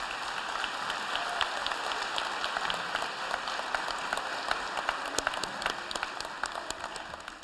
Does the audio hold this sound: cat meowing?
no